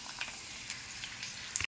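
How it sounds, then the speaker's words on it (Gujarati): Pani puri puris frying in hot oil in a village kitchen, a soft, steady sizzle with a few faint stirring touches and a brief sharper clink at the end. "જો આપણે ફાઇનલી પાણીપુરી તળી નાખી છે"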